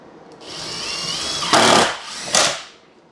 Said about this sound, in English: Let's get a couple screws in here.